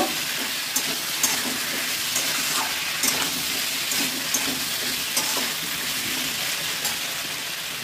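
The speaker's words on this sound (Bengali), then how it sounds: "জিরে আর আদা বাটা দিয়ে দিলাম। যেটা দিয়ে একটু কষিয়ে নেব।" Cumin and ginger paste sautéing in a pan for a papaya and potato curry, a loud continuous sizzle with periodic sharper crackles and faint stirring scrapes, without speech.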